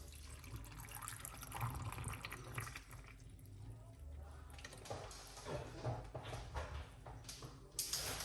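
Coconut water trickles and splashes into a container in a quiet, close pour, with faint clinks and small bumps in the background.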